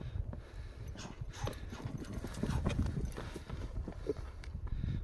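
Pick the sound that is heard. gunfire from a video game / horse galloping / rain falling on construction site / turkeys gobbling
horse galloping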